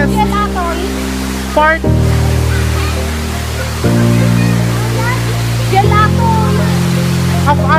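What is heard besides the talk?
Keon High waterfall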